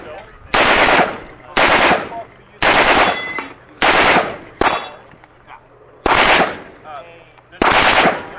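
Full-auto RPK machine gun firing about seven loud, close bursts, each lasting roughly half a second, with short quiet gaps between them.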